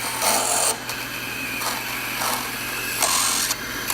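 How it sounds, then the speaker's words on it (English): A scraping tool cutting a piece of wood on a turning lathe, giving steady raspy scraping with a few louder bursts of contact over a constant motor hum, close up and with no talking. "let's put the scraping tool up there and see what happens"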